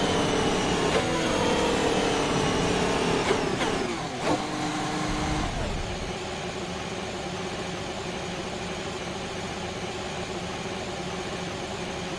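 A Formula 1 car's engine in the F1 2021 racing game, loud and steady with a falling pitch sweep near the start, then settling into a continuous droning hum that carries on alone to the end.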